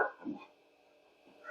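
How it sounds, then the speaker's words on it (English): A dog bark sound effect played back through an Audio Plus 3200 ISA sound card on a 386 DOS computer: a couple of quick, faint barks at the start, a short silence, then another bark beginning at the end. "Our good old dog barking."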